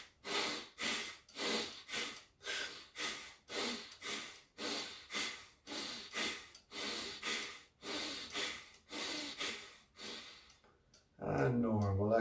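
Rhythmic forceful exhalations during a breathing exercise, about a dozen sharp squeezed breaths out in steady succession, close and loud, ending with a longer voiced sound.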